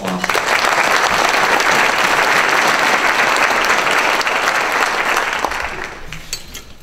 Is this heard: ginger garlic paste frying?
no